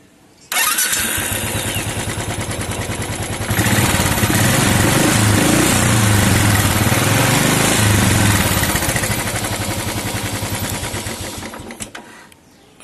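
A Royal Enfield 500cc motorcycle, just repaired for a misfire and backfire problem, starts up close by, idles with a steady thump, then revs to a louder, fuller run before easing off near the end.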